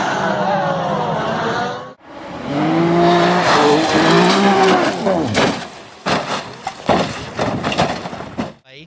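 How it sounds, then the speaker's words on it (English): Pro Mazda race cars wrecking on a raceway, loud engine roar and sliding tire screech with warbling pitch, then a break and a series of sharp, harsh impact bangs as the crash unfolds. "huge wreck in Pro Mazda coming."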